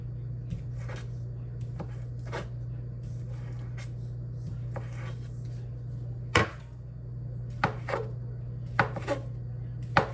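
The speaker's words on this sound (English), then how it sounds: "I'm going to get started cutting this sausage up" Knife cutting sausage on a board: irregular sharp chops and taps scattered over a steady low hum, some louder knocks near the end, no talking.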